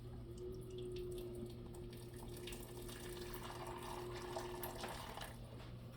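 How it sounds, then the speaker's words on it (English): Hot water streams steadily from a hot water dispenser into a pot of chicken, rice, bean, onion and tomato soup, a continuous close pour with a slight rise in splashing near the end. "add a little hot water to this from my hot water dispenser"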